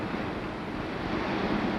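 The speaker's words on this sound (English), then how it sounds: "With a deafening roar, the frenzied waves smash at the earth." A tidal bore on a Brazilian river pushes frenzied surf against the banks, producing a continuous loud, rushing roar of broken water with no voices.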